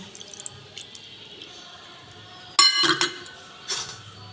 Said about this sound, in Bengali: বাটিটা ধুয়ে একটু জল দিয়ে দেব